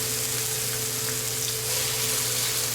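Apples, onions and garlic sauté in a single pan of pork chop drippings, giving a steady, even sizzle and frying hiss that holds at a constant level throughout, close up with no talking.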